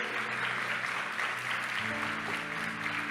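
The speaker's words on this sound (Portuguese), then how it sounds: "Aleluia, pode bater palmas, Jesus." Audience clapping in a church service, steady dense applause throughout at moderate volume, with a faint background tone underneath.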